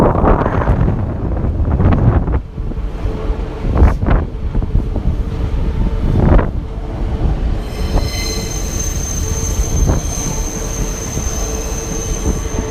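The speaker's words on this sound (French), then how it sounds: "Il y a beaucoup de vent, je peux pas le filmer" Strong wind buffets a railway station in rain, a loud continuous gusty roar with deep rumbling, joined by train-like rumble and a high squealing tone in the second half.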